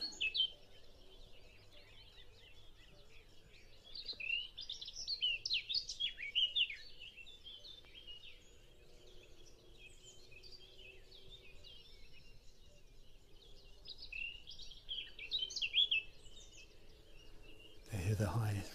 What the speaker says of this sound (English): I can hear at least one black cap singing there now.